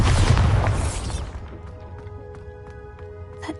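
Bombarda blasting spell going off in the Hogwarts Legacy video game, a heavy booming burst that opens loud and rumbling, then decays over a second into a lingering echoing tail with faint tinkling debris.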